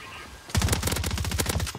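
Rapid automatic gunfire from the Warzone video game, a dense burst of close, loud shots rattling for over a second after a brief quiet start.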